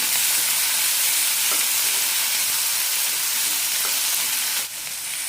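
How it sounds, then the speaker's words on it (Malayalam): Tomatoes and coriander leaves sauté in a pan for a mustard tomato chutney, producing a loud, dense, unbroken sizzle close by that drops slightly near the end. "കൂടെ തന്നെ കുറച്ച് മല്ലിയിലയും ഇടാം. നന്നായി വഴറ്റാം. തക്കാളി നന്നായി വെന്ത് കിട്ടണം."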